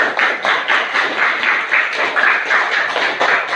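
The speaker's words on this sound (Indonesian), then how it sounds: "Tepuk tangan" Group of primary school students in a classroom clapping hands in a loud, steady rhythmic pattern, close by, with no talking over it.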